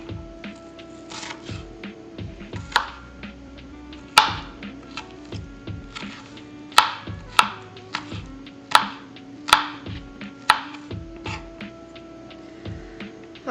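A knife chops onions on a board in a series of sharp, irregular clacks, some much louder than others, over a steady low background hum.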